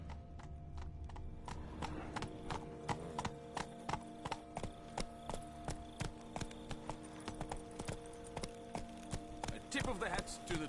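Horse hooves clip-clopping at a steady trot while riding in The Witcher 3: Blood and Wine, crisp regular hoofbeats close by with faint background tones and occasional voices.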